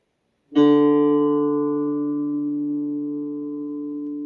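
A loud pitch-training tone sounding the note D starts abruptly and holds steady with a rich, buzzy harmonic edge, fading only slightly over several seconds with nothing else heard.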